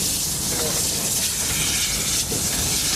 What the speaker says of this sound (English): A Robert Stevenson Hawthorne and Hawthorne Leslie combination shunt in the reception yard.